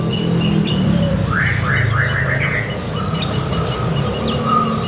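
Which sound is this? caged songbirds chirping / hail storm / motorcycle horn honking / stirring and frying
caged songbirds chirping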